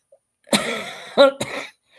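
A close, raspy cough followed by a couple of shorter throat-clearing coughs, loud and alone.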